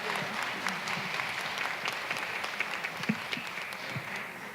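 Audience applause at a luncheon honoring women of color, a steady, moderately loud patter of many hands clapping throughout with no talk over it.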